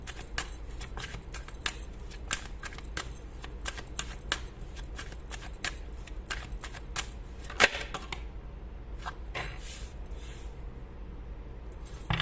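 Tarot cards are shuffled continuously, a dense run of quick papery riffles and snaps close up, steady and fairly quiet, with a louder slap near the end and no talking.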